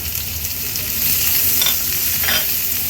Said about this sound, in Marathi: आता या स्टेजला आपण हा बारीक चिरलेला कांदा ॲड करणार आहोत